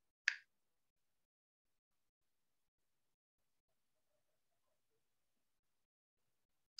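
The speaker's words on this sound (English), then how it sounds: "When I snap my fingers" A single sharp finger snap cracks out near the start, followed by near silence, then a second brief snap right at the end.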